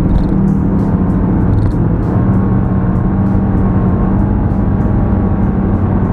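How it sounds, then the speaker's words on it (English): A salvage Nissan Altima with suspected transmission trouble runs steadily, its engine a loud, close, continuous rumble held at a constant level for several seconds with no voices. "Give it some gas and see how it runs."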